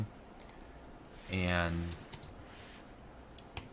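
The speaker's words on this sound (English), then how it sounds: "I'm just gonna start typing" Keystrokes on a computer keyboard while JavaScript code is written in Visual Web Developer Express, heard as faint, scattered clicks around a single brief spoken word.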